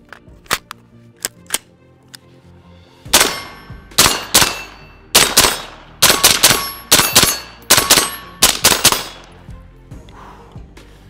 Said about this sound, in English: Next up is my tried and true AR-15. Suppressed is the way to go.